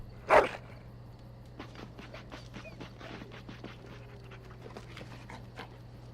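A dog in Dragon Age pants quickly and rhythmically at low volume, with a brief louder scrape or sniff at the start, heard on its own without speech.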